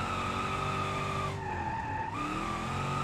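In the BeamNG driving game, a car drifts with the handbrake, its tires squealing in a loud, sustained screech over engine noise. The pitch dips and wavers partway through as the slide shifts.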